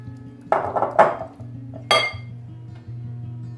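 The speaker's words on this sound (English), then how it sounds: "Okay, whisk this in." Metal whisk or fork clinking against a bowl while mixing eggless vegan banana bread batter, a few quick bursts of tapping and scraping, close and fairly quiet.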